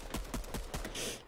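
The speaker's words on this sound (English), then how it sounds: "I got an auto shotgun." Auto shotgun firing in Fortnite: four or five quick, fairly faint blasts in a steady rapid rhythm, followed by a brief hiss.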